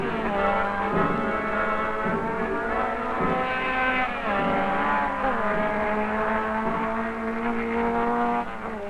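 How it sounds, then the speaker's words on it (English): Several race cars on a motor racing circuit, engines droning at high revs with rising and falling pitch as they shift and pass, loud and steady throughout without speech. "Hanskin avoids Gendebien and spins out as he enters the back straight."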